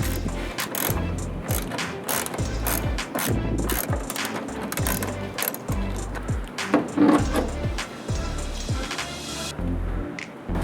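A hand ratchet clicks in quick repeated bursts, close and crisp, while unbolting a carbon fiber wing from a Mitsubishi Lancer Evolution X, with short pauses between strokes.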